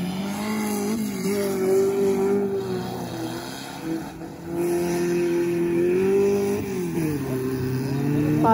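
Race cars at Pista La Loma during a Copa Boro heat, a near, rising and falling engine drone with harmonic revving that dips briefly near the middle before climbing again, no voices.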